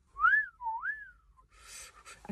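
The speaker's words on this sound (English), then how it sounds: "So whistle then. Whistle if you can" A person whistles a short rising and falling tune, followed by a burst of breathy noise and a faint click.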